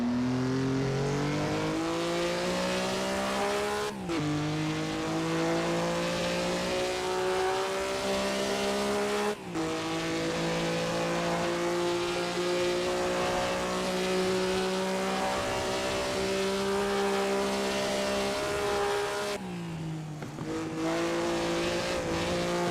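A 1950s Maserati 250F Grand Prix race car in a racing video game at the Pescara circuit holds a loud, steady high-revving engine wail, with brief drops at gear changes around three points, close and continuous with no talking.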